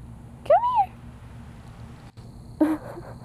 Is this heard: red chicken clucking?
no